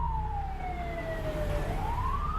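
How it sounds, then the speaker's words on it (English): A police car siren wails in a long falling then rising sweep, loud and close, over a dense low rumble of the vehicle speeding down a street. "And so Dan, he comes flying down the street, he's got his sirens on, and he pulls in right behind Kristen's cop"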